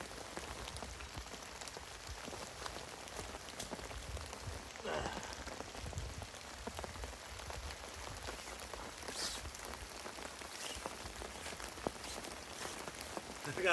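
Steady heavy rain drumming on a tarp and a budget tent at a stormy campsite, a dense continuous patter with scattered louder drops throughout, close and without talk.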